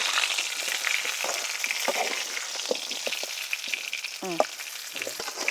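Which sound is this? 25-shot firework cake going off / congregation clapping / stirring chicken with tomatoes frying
stirring chicken with tomatoes frying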